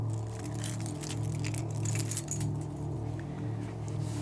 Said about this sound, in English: The keys you lost in that couch